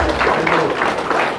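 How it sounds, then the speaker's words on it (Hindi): Applause breaks out at a political party office welcome in Jammu and Kashmir, a continuous loud wash of many hands clapping with crowd noise mixed in throughout the short burst. "तालियों का शोर जबरदस्त"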